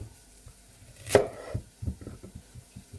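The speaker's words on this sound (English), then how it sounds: "if you want to add some courgette, again, we just take the ends off" A kitchen knife cuts the ends off a courgette in one sharp close chop, followed by softer knocks and light handling on the board.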